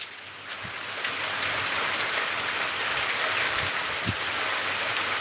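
Heavy cyclone rain pelts down steadily during a Cyclone Remal landfall, a dense continuous hiss with strong wind and scattered louder drops or gust thumps, loud and close throughout.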